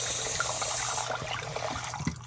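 Water runs steadily from an RV faucet while the freshwater system is flushed, a continuous splashing hiss with small gurgles, fairly close.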